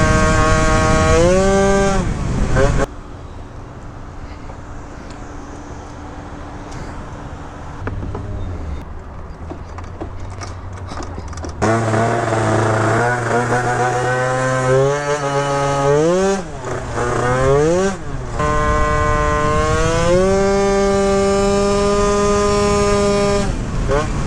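A scooter with a 94cc Malossi RC-One race engine revs hard at high RPM, a loud whining note rising and falling across gear changes after a quieter lull, with a rider's voice heard briefly.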